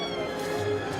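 A pet cat gives a brief meow indoors, close and fairly quiet, over a faint background hum.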